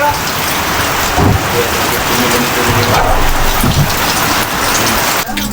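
Steady rain patters and hisses continuously, fairly loud and close, with occasional low rumbles and scattered drips but no talking.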